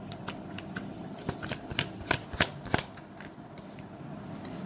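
Tarot cards are shuffled by hand in a quick riffling run of crisp flicks and slaps, close and fairly loud, then settle into quiet with no speech.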